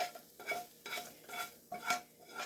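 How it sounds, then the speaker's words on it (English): Browned onions being stirred into a pot of potato and bacon soup, a spoon scraping and swishing through the thick mixture in steady repeated strokes with a faint sizzle, close and moderately quiet. "Stir that up in there with all them flavors."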